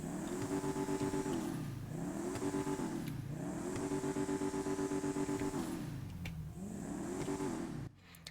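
Vapid Bullet sports car engine in GTA Online, revved repeatedly in rising and falling sweeps through the gears, a steady mid-pitched drone up close, ending abruptly.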